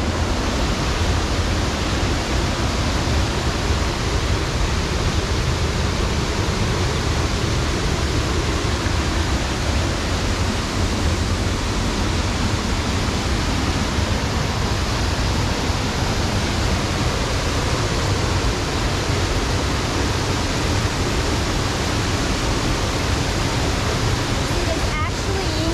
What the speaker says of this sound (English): you can hear the water just rushing, especially after a rain like this